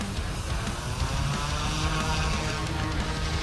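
OMP M2 EVO RC helicopter in flight, its rotor and motor giving a steady, continuous buzzing whir at moderate distance with no talking.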